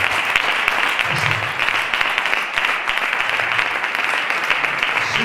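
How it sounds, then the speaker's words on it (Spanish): Loud, sustained applause from a congregation at a church service, a dense crowd of clapping hands filling the space evenly for several seconds. "Si usted no aplaude ahora, no aplaude nunca."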